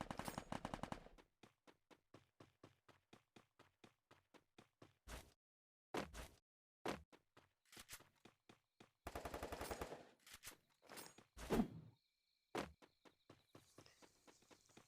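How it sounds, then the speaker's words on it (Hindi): Rapid bursts of Free Fire video game gunfire, with long automatic volleys and scattered single shots separated by brief pauses, loud and close; an M40 rifle is used. "हमें आ चुकी है फायर की एक आवाज़"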